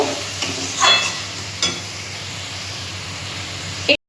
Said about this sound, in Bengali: আমি মশলার সাথে মোচাটা একটু কষিয়ে নেব